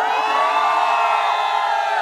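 A crowd of fans at a Pathaan movie screening shouting and cheering together, a loud, dense, sustained roar of many voices heard up close without pause.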